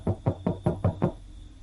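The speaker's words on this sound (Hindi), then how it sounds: "तभी उनके दरवाजे पर किसी ने दस्तक दी।" Six evenly spaced knocks on a door at night in a Hindi horror story, close and solid, a rapid series with a short pause before silence.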